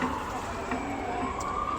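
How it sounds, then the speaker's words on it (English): An emergency vehicle siren passes at a distance outdoors, a faint wailing tone over steady background noise. "got siren going by as if you couldn't tell."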